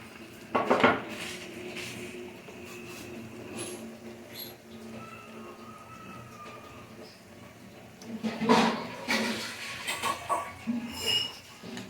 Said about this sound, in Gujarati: હવે ઉપરથી વઘાર કરી નાખીએ